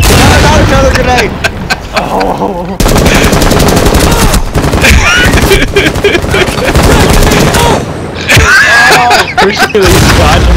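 Rapid gunfire bursts and grenade blasts in a Rainbow Six Siege match, loud and close, with sharp cracks broken by brief gaps and a final flurry of shots.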